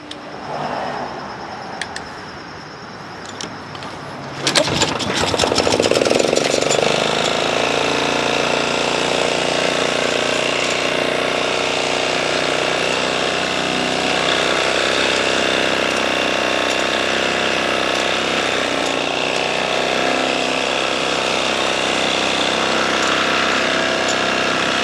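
A Toro Timemaster self-propelled lawn mower, hard to push and noisy when moving, is quiet at first. It then roars into loud, continuous running with a harsh mechanical rattle and grinding underneath.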